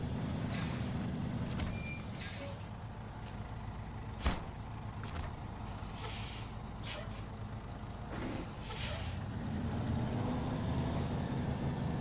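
A truck reversing in SnowRunner: a steady, close engine rumble runs the whole time, with air-brake hisses and faint reversing beeps over it, and no voices.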